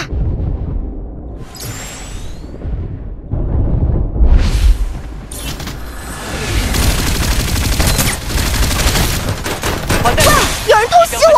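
Gunfire and explosions from the video game Farlight 84 crack and boom in loud, dense bursts and sustained volleys, mixed with game effects and brief voice lines.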